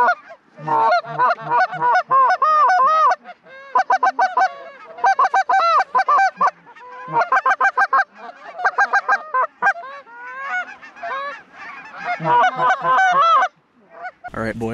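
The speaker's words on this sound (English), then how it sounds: "The geese might be starting to move here" Wild geese honking loudly and continuously during a North Dakota goose hunt, with a dense flock calling in overlapping bursts close by, plus a brief low thump at the end.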